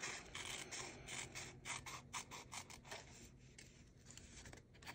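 Scissors trimming a fabric window piece: a quick run of soft, closely spaced snips and rustling cuts, faint and near, with no talking.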